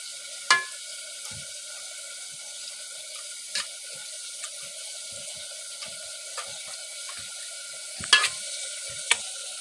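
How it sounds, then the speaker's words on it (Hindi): A masher pressing boiled turnips makes sparse, irregular soft thuds and squelches, a few sharper knocks among them, over a faint steady background hiss. "अब हम शलजमों को मैशर की मदद से करेंगे मैश"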